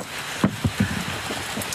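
Rain falls steadily at night outdoors, a dense patter on surfaces with a few louder nearby drops and splashes standing out in the first second.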